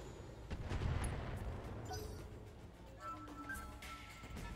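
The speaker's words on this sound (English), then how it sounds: "a Jaeger mech's about to get shot with a bunch of missiles" Missile barrage striking a Jaeger mech in the BattleTech video game: a cluster of heavy booming impacts swells early, then rumbling blasts and scattered sharp pops fade into lighter crackles, with no voices.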